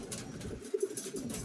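Racing pigeon cooing in a loft during summer race training, a few soft low coos close by over steady outdoor background noise.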